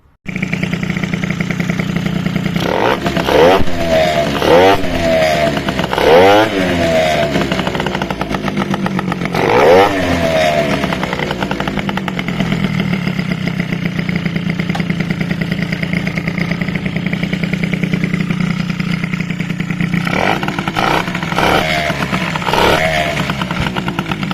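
A Peugeot 103 moped's small two-stroke engine runs loudly and close outdoors after starting, buzzing steadily with repeated throttle blips that rise and fall in pitch, over a rattling, clattery idle.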